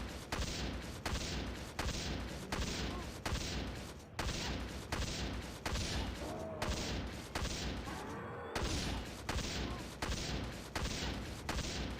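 Bowgun crouching-fire shots aimed at a Renoclaw in Monster Hunter 3 Ultimate, a rapid, evenly spaced string of loud sharp blasts repeating for about twelve seconds.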